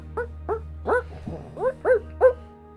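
Close, clear dog barks sound in a short run of about seven evenly spaced, yelping woofs, used as an effect during a Pokemon-themed tabletop role-playing game session.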